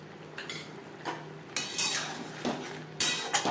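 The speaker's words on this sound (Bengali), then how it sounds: "বেশ ভালো করে মিক্স করে দেবো" A metal spoon scraping and clinking in a pan while stirring bitter gourd curry with a little raw mustard oil, a few irregular close scrapes and knocks growing louder toward the end.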